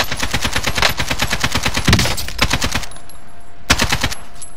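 Rapid automatic gunfire from Warzone Rebirth gameplay, loud sustained bursts with a brief pause before another short burst, no talking.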